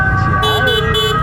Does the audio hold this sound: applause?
no